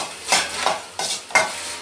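Drumstick flowers fry in a pan while being stirred, with four rhythmic scraping strokes over a soft background sizzle, close and fairly loud.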